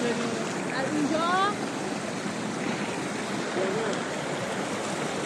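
A river rushes steadily with loud, continuous broadband noise near a frozen waterfall in winter, while a voice speaks briefly over it.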